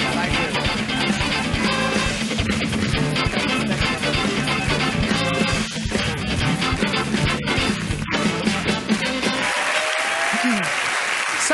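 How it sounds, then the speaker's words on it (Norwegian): Loud studio audience applause on a Norwegian comedy panel show, dense sustained clapping with crowd noise and music underneath, thinning out near the end. "Kjempestor applaus til Bas Landstorp og Alf Sandre!"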